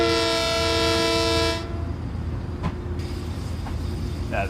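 A Long Island Rail Road train horn in the Train Sim World video game blasts a loud, sustained multi-tone chord for about a second and a half, then cuts off, leaving a steady low cab rumble.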